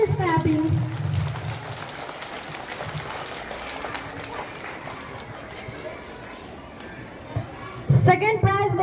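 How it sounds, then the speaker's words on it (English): An audience of schoolchildren claps for a first-prize winner at a school prize ceremony, a moderate spread of applause under and between a voice speaking, with a louder burst of talk near the end. "Please, big clap for him, all of you."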